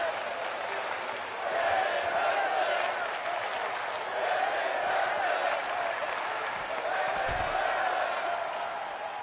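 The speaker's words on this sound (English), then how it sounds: "Crowd chanting, "This is wrestling, women's wrestling."" An arena crowd at a BWE Warpath women's wrestling show chants in a steady rhythmic cadence, a broad, continuous roar of many voices throughout with no single voice standing out.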